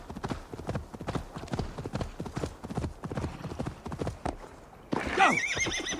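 A horse in Assassin's Creed Valhalla whinnies loudly and shrilly near the end, after a stretch of steady galloping hoofbeats that carries on beneath the call.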